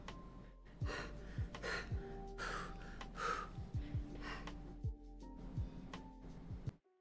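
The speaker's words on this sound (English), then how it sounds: "You can see that I'm having trouble breathing?" A woman in a tight corset breathes in short, labored gasps and strained breaths, close and fairly loud, repeating unevenly over several seconds against a faint steady hum.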